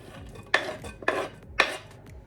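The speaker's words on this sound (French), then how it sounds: "Donc je le coupe grossièrement." A knife coarsely chops granola on a board: three crisp, crunchy cuts at even intervals, close and clear, with quiet pauses between them.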